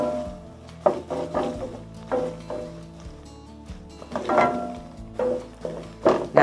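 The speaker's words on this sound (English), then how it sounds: "Give that a little stir and get it nice and fragrant." A spoon works through ingredients in a pan while making carbonara, giving soft scraping and tapping strokes in an irregular rhythm, close and fairly quiet.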